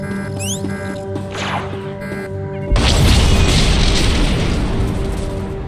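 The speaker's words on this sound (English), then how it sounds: "The Deathmark has been destroyed." The starship Deathmark blowing up in Star Wars: The Old Republic, a sudden heavy boom that swells into a loud, rumbling roar after a stretch of sci-fi electronic tones and beeps, with no talk.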